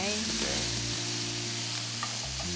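Chicken pieces drop into a hot pan and sizzle steadily while being stirred, a close frying hiss over a low hum, with a voice speaking briefly.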